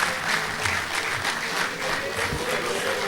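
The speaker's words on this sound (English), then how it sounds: "Can we please appreciate our esteemed Director General with another round of applause?" Applause for the Director General at a graduation ceremony and annual lecture, a steady, moderately loud clapping from the audience lasting about three seconds, with faint voices in the crowd.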